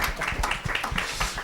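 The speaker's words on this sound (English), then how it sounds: "You may clap for them" An audience at a democracy forum claps for the panelists, a brief, moderately loud burst of scattered hand claps with no talk over it.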